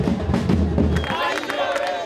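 A dense street protest crowd in Buenos Aires roars and chants loudly and continuously, close by, with shouting voices layered throughout.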